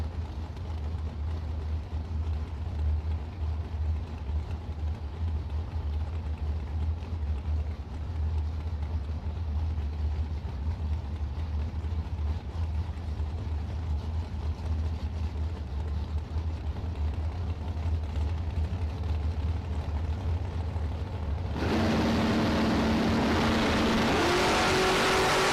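Green Corvette Roadster drag car at a bracket race, a long, rumbling idle with a strong low drone, then an abrupt, much louder burst of engine roar near the end as it launches.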